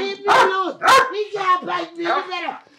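A dog barks repeatedly in a series of loud, close, harmonic barks and yelps, several sharp bursts in an uneven rhythm, heard amid a tense indoor confrontation.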